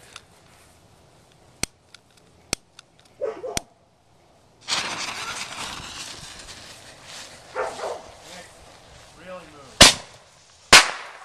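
Firework rockets hit a gingerbread house, with several sharp isolated cracks and pops, a long hissing whoosh of burning rockets, then two loud bangs near the end. Brief voices and exclamations come between the blasts.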